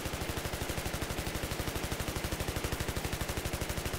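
Rapid, steady automatic gunfire in the Destruction video game, an evenly spaced stream of loud, close shots running unbroken from start to finish.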